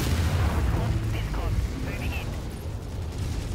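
Artillery fire in a MechWarrior campaign battle, continuous heavy booms and low rumbling impacts with mechanical clatter throughout, loud and close.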